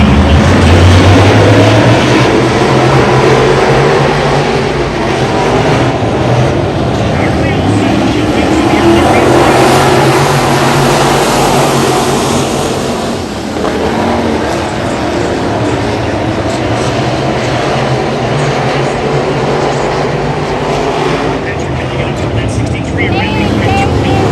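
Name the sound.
USRA late model race cars in heat race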